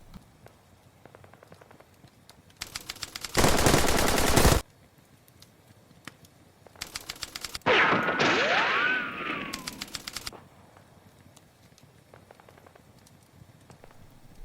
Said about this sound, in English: the pioneer squad step forward and open fire at the paras